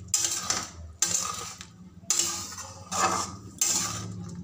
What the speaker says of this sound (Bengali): দিয়ে ভালো করে মিশিয়ে নেব।